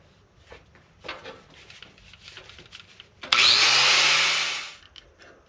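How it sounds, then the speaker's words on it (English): A power tool grinds down a part on a vehicle shifter and cab cable install, a loud, dense burst of roughly a second and a half that spins up abruptly and winds down, following a stretch of quieter shop handling noise. "I'm going to grind it down a hair."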